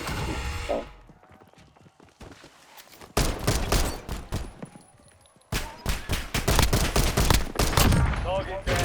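Call of Duty: Warzone gunfire on the Verdansk map crackles in dense, loud bursts after a quieter lull, with rapid overlapping shots and a voice speaking in between.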